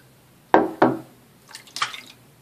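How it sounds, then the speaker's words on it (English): Water splashing as hands wet a face before shaving at a sink: two close, sharp splashes in quick succession, then softer dripping and trickling splashes, with no talking. "I'm going to wet my face again."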